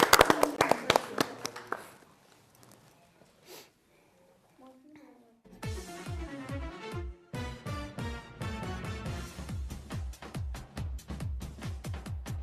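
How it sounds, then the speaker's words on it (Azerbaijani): A television show audience claps in a dense burst at the start that fades out within about two seconds. After a short lull, music begins. "Alqışlayaq."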